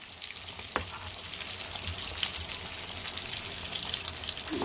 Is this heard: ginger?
yes